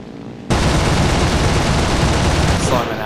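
Continuous roaring gunfire from an FW190 A-4 fighter's guns in a flight sim game, a dense, loud sustained burst that starts abruptly over engine drone and tails off near the end.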